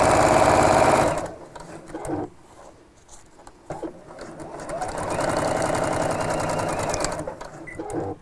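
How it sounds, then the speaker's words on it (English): A domestic sewing machine stitches through fabric in a fast, even whirr, stopping briefly before starting a second steady run; close and fairly quiet, with someone talking in between. "So we'll sew this side in."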